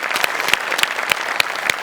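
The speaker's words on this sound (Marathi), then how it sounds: "मस्त, जोरदार टाळ्या." A comedy show audience bursts into loud applause, with crisp, evenly spaced claps standing out above a steady roar of clapping.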